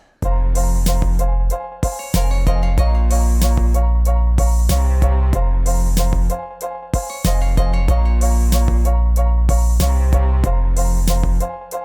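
A riff over the full backing track, with deep bass, drums and the bright piano figure looping loudly with brief dropouts, no voices.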